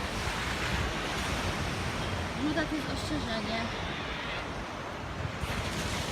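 Steady roar of surf and wind on a beach, with a person speaking faintly under the constant wash of waves.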